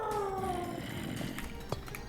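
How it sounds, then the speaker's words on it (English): Cats fight nearby with a drawn-out, wavering yowl that slides downward, followed by scuffling and a sharp thump, all at moderate loudness. "Kitty cats are playing right now."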